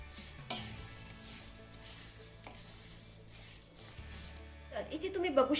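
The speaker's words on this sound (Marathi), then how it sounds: "आता हा गुळणं आपल्याला चांगला वितळवून घ्यायचा आहे" Jaggery melting in a hot pan gives a soft sizzle and occasional stirring scrapes, building into brighter crackling toward the end, heard under a person talking.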